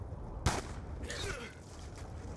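A single sharp M14 rifle shot rings out in Call of Duty: Black Ops 2 on the Nuketown map, a loud crack with a brief tail, followed by quieter in-game ambience and faint rustling.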